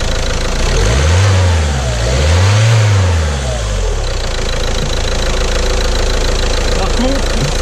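A diesel car engine (HDI/DCI type) revs up loudly twice in swelling surges, then settles into a steady, close, knocking idle.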